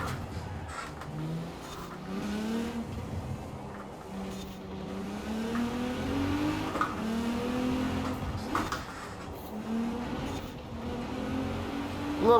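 A car slides and drives on dirt in Forza Horizon 4, its engine droning and revving up and down continuously with pitch swings between gear changes, steady and close.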